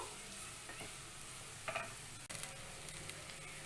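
Grated carrots sauté with turmeric and salt in a pan over a medium flame, giving a faint, steady sizzle with occasional scraping stirs and a soft clink, and no talking.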